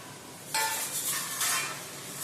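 Fenugreek seeds stirred into a hot kadhai of diabetic-friendly fennel mouth freshener mix, two bright bursts of dry rattling and scraping, close and fairly loud with no talk.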